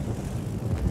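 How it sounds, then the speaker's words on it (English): Aircraft droning overhead in the naval combat game World of Warships, a steady low propeller-engine rumble that stays loud and continuous throughout, with no talk. "A lot of AA that Noorg's planes are going through."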